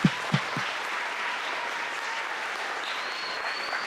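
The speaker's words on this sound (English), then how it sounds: "can we get an applause for them, please?" An audience claps at a senior presentation, a few sharp opening claps swelling into steady, moderately loud applause from a modest crowd that continues evenly to the end.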